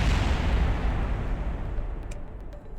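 A rocket explodes in the game Kerbal Space Program, a loud, dense roaring boom that fills the clip and slowly fades with a faint crackle near the end, no talk.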